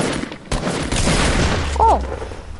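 Video game gunfire in a hoverboard shooter, a burst of rapid shots over a noisy game soundtrack, with a short rising electronic effect near the end.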